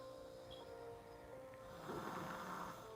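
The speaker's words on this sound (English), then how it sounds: "That girl snoring loud." A girl snores in the background, one soft, raspy breath swelling up partway through over a faint steady hum, distant and low.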